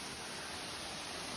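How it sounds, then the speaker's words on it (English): A small waterfall beside a hiking trail in Hickory Run State Park produces a steady, faint wash of rushing water, even and unbroken with no voices. "Over here's a little waterfall of sorts."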